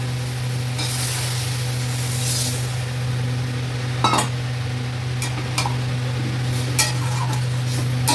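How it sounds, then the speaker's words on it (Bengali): Warm water goes into a sizzling pan of soybean curry made without ginger or onion, producing a loud continuous hiss and bubbling with a low steady hum beneath and a few sharp clinks of a spoon against the pan. "এবার এই জলটা একটু দেবো, এই জলটা আমার উষ্ণ গরম করে রাখা।"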